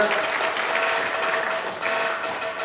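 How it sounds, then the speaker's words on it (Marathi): Dense, loud applause from an audience at an award ceremony in Karad, a steady, even clatter of many hands for the whole stretch. "जोरदार टाळ्या आपण कौतुक करूया"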